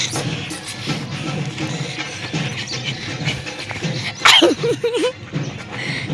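A dog shuffles and snuffles nearby, then lets out a sharp yelp followed by a few short, wavering whimpers, close and fairly loud.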